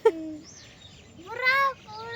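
Pigeons on a house roof call with a brief note at the start, then a louder, rising and falling cooing call after a pause, heard close against a quiet background.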